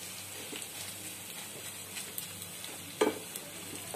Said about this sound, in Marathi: इकडेही आपण हे बटाट्याचा खीस हलवत राहायचं आहे।